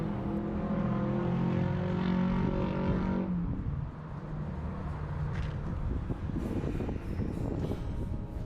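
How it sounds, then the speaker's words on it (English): Cars pass on the Texoma Parkway outside the front entrance of the Midway Mall in Sherman, Texas, a faint continuous roar of traffic heard from a distance with no voices. "You might be able to hear the cars going by on the Texoma Parkway."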